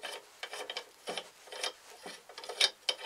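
Bolts being tightened on a homemade wood lathe chuck, producing close, irregular metallic rasping and ratcheting scrapes in short bursts with small pauses between turns.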